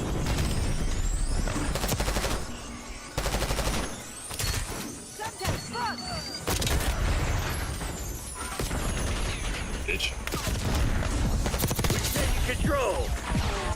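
Rapid gunfire in Call of Duty, loud sharp shots and bursts, some single heavy sniper-like cracks, repeating irregularly throughout with brief lulls between exchanges.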